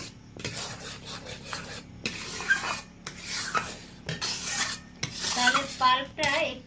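Salt stirred and scraped in a hot pan while making kadam pitha, a steady close rasping with short breaks between strokes and a faint sizzle beneath.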